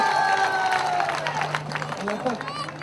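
An audience at a stage event claps loudly, with scattered cheering mixed in beneath an amplified voice that talks over the applause throughout.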